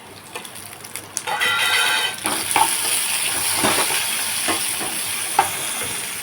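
Browned onions and spices fry in a pan for a Bengal-style katla fish recipe, giving a steady close sizzle with several sharp clinks and scrapes of a spoon stirring through it, and no talking.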